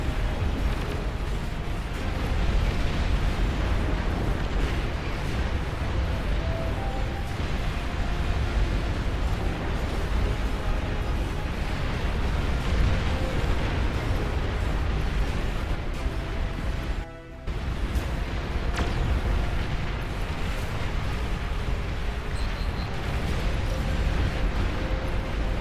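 Long-range plasma cannon fire and explosions from the Beyond All Reason strategy game rumble on continuously as a dense, heavy wash of booms and blasts, with a brief dip partway through before the barrage resumes.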